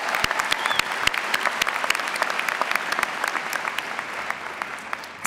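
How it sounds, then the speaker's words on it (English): Sustained graduation ceremony applause from a large audience at the 2018 Tufts Graduate School of Engineering commencement, dense and loud with sharp individual claps standing out throughout. "Another round of applause for you."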